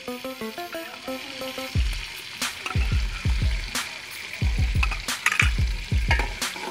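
Ginger garlic paste sizzles and spatters loudly in a hot pan, with repeated stirring scrapes and a few clinks of a utensil against metal.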